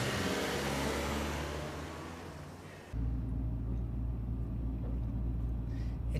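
An old BMW car driving on a road in the Scarlet Hollow video game, a steady low engine drone and road rumble with a broad hiss that fades, then a continuous deeper hum.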